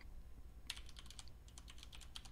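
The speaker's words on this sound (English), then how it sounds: "this code that I'm typing in right now" Fast, light clicking of computer keyboard keys as HTML code is typed, a busy irregular run of close, crisp keystrokes over a faint hum, with no voices.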